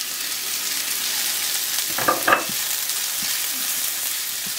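Carrots and other vegetables sauté in a hot pan, a steady soft sizzle running throughout, with a brief louder clatter of stirring or pieces dropping in around the middle; no one speaks.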